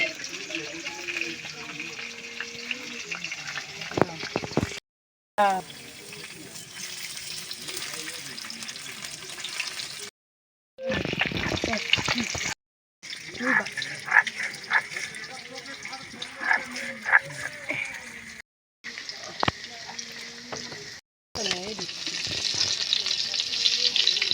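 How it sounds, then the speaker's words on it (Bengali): Onions dropped into hot oil fry for a magur fish curry, a steady close sizzle with stirring clatter and occasional water noise, interrupted by brief silent breaks, while a person talks over it. "পেঁয়াজ ফেলে দিচ্ছি।"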